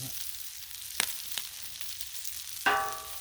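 Bacon and vegetables sizzling on a Blackstone griddle, a continuous close frying hiss punctuated by a few sharp pops and a clatter of a utensil near the end.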